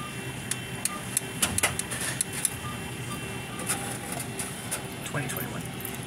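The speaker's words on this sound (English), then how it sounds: "Please wait for printing to finish." A printer runs through a print job with a steady mechanical whir, punctuated by sharp ticks and clicks from the paper feed, while faint voices murmur in the background.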